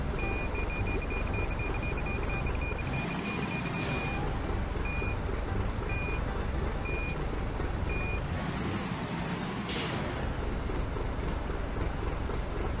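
Steady electronic reversing beeps from a truck backing up in Truck Simulator 2019: Europe, evenly spaced tones over a constant loud engine drone, with a couple of brief whooshing swells.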